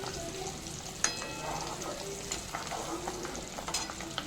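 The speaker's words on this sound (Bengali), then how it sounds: "রসুনটা খুব ভালো মতো লাল লাল করে ভেজে নিচ্ছি" Chopped garlic fries in oil for a raw mango pickle, a quiet continuous sizzle with a few sharp spatters and light stirring scrapes, close up and without speech.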